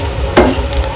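Mandeli fish frying in a pan, a short close burst of sizzling with a stirring scrape, alone without speech.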